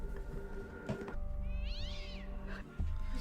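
A cat meows in a TV episode, one clear rising-and-falling meow in the middle between soft background sounds and thumps, fairly close and alone without talk.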